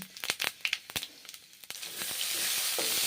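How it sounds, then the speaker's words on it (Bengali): Panch phoron whole spices crackle and sizzle in hot oil for a fish curry, starting with sharp separate pops and spits, then settling into a steady bright frying hiss. "গরম তেলে পাঁচ ফোড়ন দিলাম"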